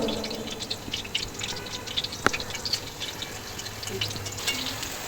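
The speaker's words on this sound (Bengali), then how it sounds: "আর এখন হচ্ছে আমি এটা গরম তেলে ভেজে নিচ্ছি" Vegetable pakora batter sizzling in hot oil over a medium flame, a steady crackle and bubbling with scattered small pops and one sharper snap, close and continuous.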